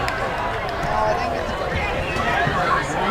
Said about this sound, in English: As we get the crowd noise going here once again.